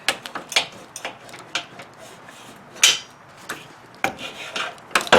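An upper hose being worked off the front-mount aftercooler of an 8th-gen Honda Civic Si's CT supercharger setup, giving close, irregular rubbery scrapes and rubbing squeaks in short bursts with quiet gaps between.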